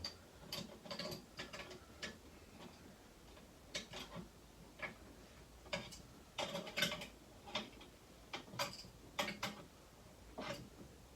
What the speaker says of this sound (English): I'm going to use a spanner to try and jack this up and see what happens